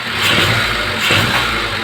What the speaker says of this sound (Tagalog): palyado yung ating makina pag nirip ko na ganun yan o namumutok-mutok siya